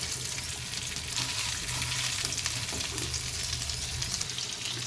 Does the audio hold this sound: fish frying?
yes